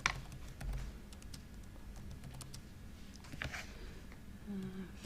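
Quiet computer keyboard typing in an office, soft scattered key clicks spread over a few seconds at low level, with no voice over it.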